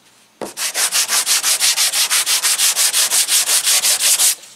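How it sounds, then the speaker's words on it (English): A car body stripe line being hand-sanded with 150 grit sandpaper produces about twenty loud, regular back-and-forth rasping strokes, close up and without speech. "So we're gonna sand that with 150 as well."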